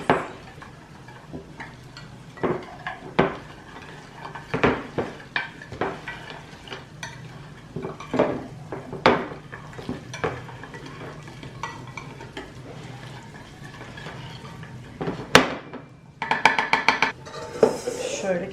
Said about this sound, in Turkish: Ve meyvelerimizi. Karıştırıyoruz.